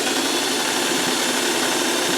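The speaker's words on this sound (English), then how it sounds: "Okay, and I'm just going to sew." A sewing machine stitches fabric, running at a steady, even speed with a continuous close whirring and rapid fine rhythmic chatter, with no talking.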